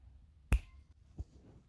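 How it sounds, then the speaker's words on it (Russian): One crisp, close finger snap cracks sharply in a quiet room, followed by a softer low thump a moment later. "Так что я сейчас щелчком пальца бац"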